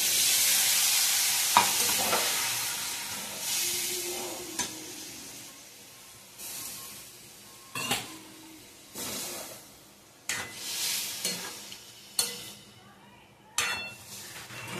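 Spoon stirring mourola fish chochchori in a frying pan, a steady sizzle broken by repeated scraping and clinking strokes against the pan, close up, no talking.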